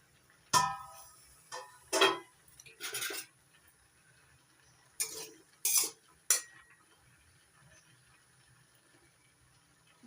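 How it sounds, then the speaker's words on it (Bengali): Lid lifted off a pot of boiled jackfruit seeds: a few sharp metallic clanks and scrapes scattered across a quiet kitchen, with long pauses between them. "এবার ঢাকনা তুলে নিচ্ছি।"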